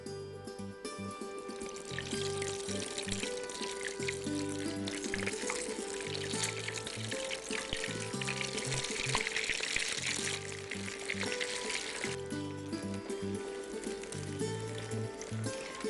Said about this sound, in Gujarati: થોડું વચમાં હલાવતા રહેવું જરૂરી છે, બધી બાજુથી ફાઇન તળાઈ જાય.